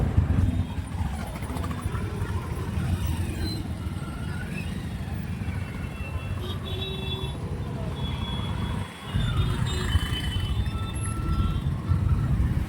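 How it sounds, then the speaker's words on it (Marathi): Street traffic in Latur: a dense, continuous rumble of cars, trucks and buses close by, with engine drone and passing vehicles throughout and a voice talking over it at times. "लातूरला पण ट्रॅफिक असते हो, मला वाटलं फक्त मुंबईला ट्रॅफिक असते"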